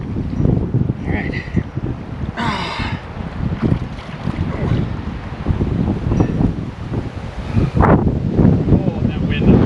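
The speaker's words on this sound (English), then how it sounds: "Oh, that wind up on hill." Strong wind buffets the microphone on a cold hilltop, a loud continuous roar with gusts, while a voice talks over it.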